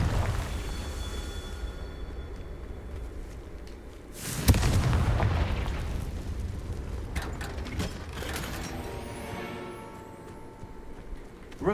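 A Confringo spell in Hogwarts Legacy: one sharp, booming blast midway, with a rumbling tail, over a low game ambience and scattered lighter clatters afterward.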